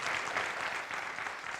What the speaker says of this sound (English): this whole panel deserves some applause right now